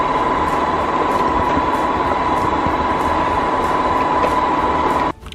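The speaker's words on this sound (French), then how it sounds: "En tout cas il aspire très bien. Il est pas si bruyant que ça" A vacuum cleaner runs steadily with a constant whirring hum and a faint tonal whine, moderately loud and unbroken, then cuts off abruptly near the end.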